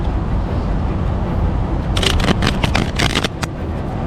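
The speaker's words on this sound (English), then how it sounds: "There's so many cards that are kind of hard to shuffle." Shuffling an oversized deck of cards gives a burst of rapid crisp riffling flutters about halfway through, close up, over steady loud outdoor background noise.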